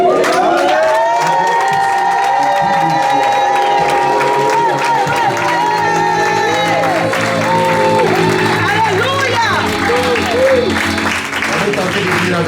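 A church congregation at a convention shouts and cheers for joy, a loud, sustained roar of many voices with whoops and applause mixed in, while a voice speaks over the crowd.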